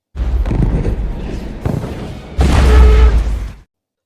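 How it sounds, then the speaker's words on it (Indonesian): A city power station explodes with a loud, sustained roar of blasts and rumbling debris, broken into surges with a brief drop near the middle before a heavier final burst that cuts off sharply. "sumber listrik kota meledak sehingga lampu di seluruh kota padam"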